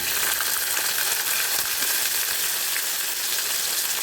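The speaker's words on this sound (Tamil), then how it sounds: "நான் அப்படியே வதக்க போகிறேன்" Onion and tomato sauté in a pan, giving a dense, even hiss of frying that holds steady throughout with no voices.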